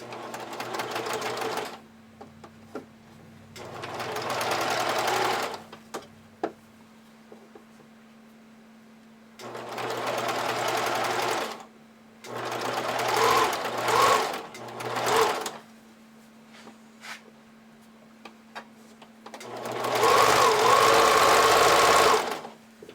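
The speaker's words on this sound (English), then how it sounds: "I pull my fabric straight as I'm zigzag stitching, top stitching" A sewing machine runs in repeated bursts of zigzag top stitching along the folded edge of fabric for picot edge knickers, with a steady low motor hum between loud stitching runs of a few seconds each.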